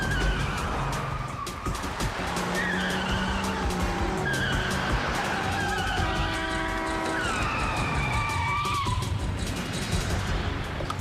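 A car with failed brakes skids through a traffic light, its tires squealing in long, wavering screeches over a continuous roaring engine and road noise, loud and close for the whole stretch.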